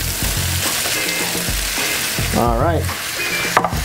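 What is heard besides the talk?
shrimp sizzling as they fry in a pan with chorizo and onions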